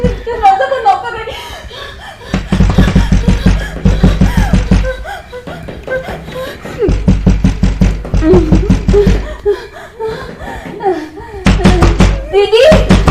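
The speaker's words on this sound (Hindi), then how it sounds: "दरवाजा को नॉक कर रही" Knocking on a door comes in several rapid, loud, close bursts of raps with pauses between them, mixed with voices and some chuckling in a Hindi horror short.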